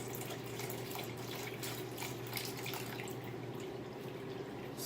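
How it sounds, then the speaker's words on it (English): Cold water is poured steadily into a jello cranberry mixture as it is stirred, making a continuous close trickling and splashing with no talk. "from here, you stir in 3/4 cup of cold water"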